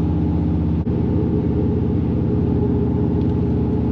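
A cammed Chevrolet Silverado pickup drives along, its engine a loud, steady, lumpy low rumble with a choppy idle-like pulse, heard close from inside the cab with no talking.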